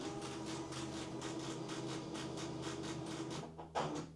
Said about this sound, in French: Donc on va imprimer le bordereau